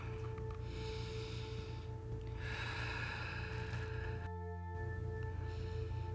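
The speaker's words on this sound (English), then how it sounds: "Take a deep breath." A deep breath taken during a beginner yoga session, a slow breathy inhale and exhale standing out over steady low background hum, close and fairly soft with no talk.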